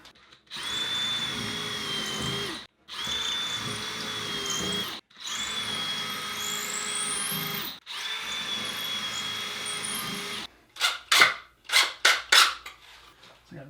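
A power drill drives screws for a Manfrotto wall mount boom arm in several sustained whirring bursts separated by short pauses, followed by a quick series of sharp clicks and knocks near the end, close by.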